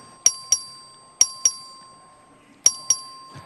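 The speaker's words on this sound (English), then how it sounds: "The clerk will ring the bell." Vote bell rung in the Texas House chamber, three pairs of sharp bright dings spaced about a second apart, each ringing out and decaying over a quiet room hum.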